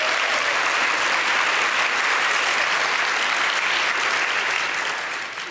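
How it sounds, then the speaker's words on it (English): Applause from a seated audience at a costume design panel, an even wash of many hands clapping for several seconds, steady and full before tapering off at the end. "Let's give them a round of applause"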